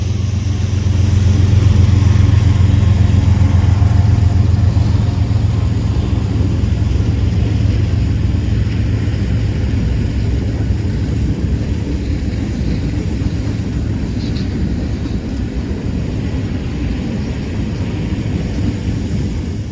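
CSX M560 freight train led by a single DC Gevo locomotive, working hard on the Willard subdivision at Fostoria, Ohio: a loud, steady low diesel drone that eases slightly as it continues, with no talk.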